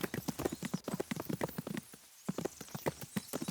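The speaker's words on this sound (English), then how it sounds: "lo bueno es que no se cansa este caballo" Horse hooves clip-clop in a quick, close, galloping rhythm in Kingdom Come: Deliverance, briefly pausing midway before resuming just as fast.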